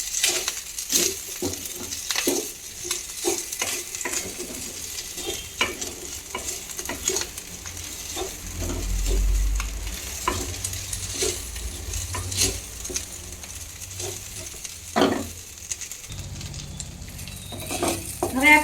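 Corn kernels cook in a pan for makai chevdo, a soft steady sizzle broken by repeated scraping and stirring clicks of a spoon against the pan, with a low thump near the end.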